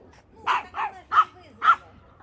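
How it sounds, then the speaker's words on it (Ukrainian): Dogs bark at a neighbour's dog in a backyard garden, giving four sharp, separate barks in quick succession at moderate distance over a quiet background. "Я думаю, на кого вони тут гавкають?"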